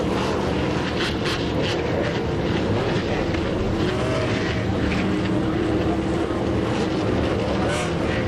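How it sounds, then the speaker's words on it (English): Race car engines fire up and roar together on the starting grid at the Daytona 24-hour endurance race, a dense, loud, continuous rumble with no break, and crowd and track ambience mixed in. "Drivers, start your engines."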